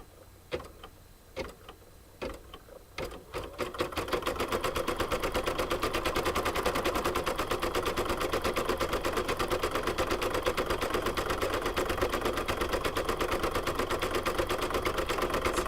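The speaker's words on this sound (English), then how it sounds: "Get my machine threaded up here, and away it's going to go." An embroidery machine stitches a chicken coaster design, opening with a few separate clacks and then settling into a fast, steady mechanical rattle of needle strokes that carries on without pause. Nobody speaks over it.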